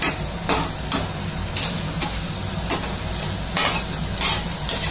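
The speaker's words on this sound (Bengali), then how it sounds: "এই পুরোটা ভালো করে নেড়ে চেড়ে মশলাটা ভালো করে" Potatoes and boneless chicken are stirred through masala in a pan for a creamy chicken curry, making a soft steady sizzle broken by regular sharp scrapes and taps of the spoon against the pan, with no talking.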